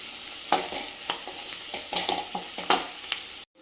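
Okra and onions frying in a covered pan while being stirred, a steady close sizzle broken by repeated scraping and clinking stirs at an uneven pace, ending abruptly.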